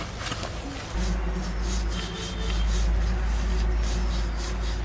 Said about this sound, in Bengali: সে ঘষে পরিষ্কার করে দিলাম